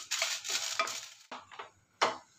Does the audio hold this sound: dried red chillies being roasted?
yes